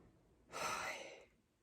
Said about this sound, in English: The father dinosaur gasped.